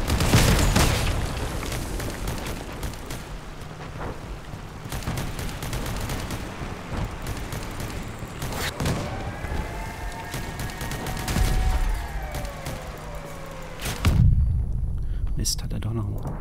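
Gunfire and explosions from the vehicle combat video game Crossout, a dense run of repeated shots and booms with engine-like tones, moderately loud throughout with a heavy blast near the end.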